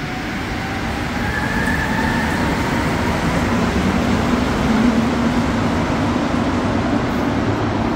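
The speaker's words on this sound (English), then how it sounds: "I want to see this train on the curve here. When it approaches the station" A Montreal Metro train rumbles steadily as it rolls into a station on a curve, a continuous loud roar of wheels on rails with a faint high squeal running through it.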